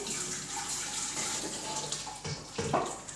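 Boiled water from a kettle pours into a large soup pan for chicken and leek soup, a steady rushing splash that swells and gurgles toward the end, close and fairly soft.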